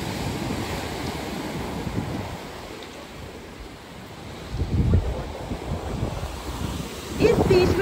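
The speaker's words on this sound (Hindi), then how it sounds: "फोंडा बीच।" Surf at Fonda beach in Begur, Spain, with waves washing in as rising swells of broadband noise over steady wind rumble, a louder surge near the end.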